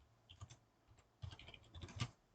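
Light clicks of typing on a computer keyboard, a few quick irregular bursts of keystrokes, close and quiet.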